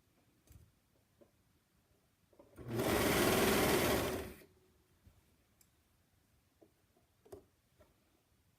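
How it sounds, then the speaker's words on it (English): A sewing machine stitches the bottom corner of a placket on pajamas in one short, fast whirring run of under two seconds, with quiet clicks and handling taps before and after. "I recommend taking the time to just do that bottom little corner on your machine."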